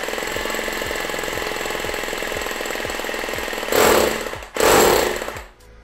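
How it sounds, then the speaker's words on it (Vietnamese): A 17 mm rotary hammer drills into concrete in hammer mode, giving a steady rapid pounding rattle up close that swells into two louder, harsher bursts near the end. "Chức năng khoan bê tông."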